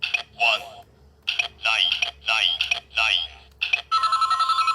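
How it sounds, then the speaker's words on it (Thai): Close and loud, the DX K-Touch toy phone rings with a series of bright synthetic warbles and swooping electronic bursts, then a steady fast-pulsing ringtone at the end, with no other sounds. "เป็นเสียงโทรศัพท์ นะฮะ"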